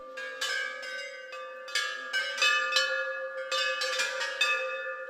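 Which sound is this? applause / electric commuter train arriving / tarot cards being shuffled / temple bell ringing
temple bell ringing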